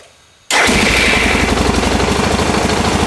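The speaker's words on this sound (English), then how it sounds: "Okay, take it to neutral, start it up." A Suzuki DR650 motorcycle in neutral fires up abruptly after a quiet moment, then settles into a loud, close, steady thumping idle.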